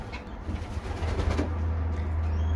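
Pigeons cooing in a loft, a few soft, low coos close by over a steady low hum in the background.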